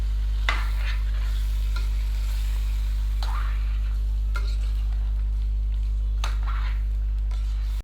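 Mutton seasoned with salt and black pepper is stirred in a pot for Peshawari namkeen gosht, with a few distinct scraping strokes over a soft sizzle and a steady low hum.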